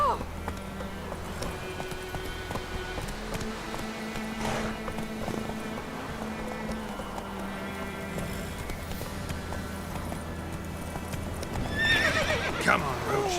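Roach, the horse in The Witcher 3 video game, clip-clops at a gallop with hoofbeats running steadily throughout, then gives a loud neigh near the end, over in-game music and ambience.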